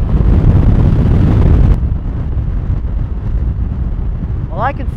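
A Honda Pacific Coast 800 motorcycle cruising at about 80 mph on an interstate gives a steady, loud, wind-buffeted road roar throughout, easing slightly after the first couple of seconds.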